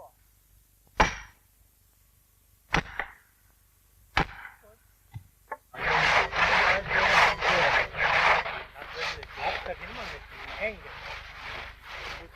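A saw cuts through an oak tree during felling, starting with a few sharp knocks and scrapes before settling into a loud, steady rhythmic rasp of repeated strokes. Several voices speak in German over the sawing.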